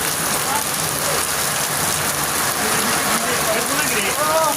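Heavy rain pours down steadily in a continuous, loud wash of drops hitting surfaces, with faint voices talking in the background.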